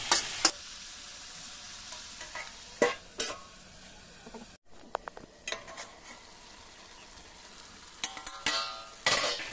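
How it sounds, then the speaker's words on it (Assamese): Meat and onions sizzle in a pot while a utensil scrapes and stirs in intermittent bursts, with occasional clinks against the pot's side and brief quiet gaps between strokes. "এতিয়া ইয়াত এতিয়া পিঁয়াজখিনি দি অকণমান লৰাই দিছোঁ"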